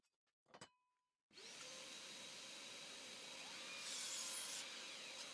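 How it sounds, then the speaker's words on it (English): A power saw cutting rough-sawn timber beams for a compost bin, with a short burst and clicks first, then the motor starting and running at a steady loud whine, rising in pitch briefly as the blade bites in. "I'm going to be cutting out the beams I have"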